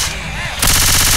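Rapid machine-gun fire in a zombie shooter video game, a loud continuous burst that starts abruptly after a brief quieter moment.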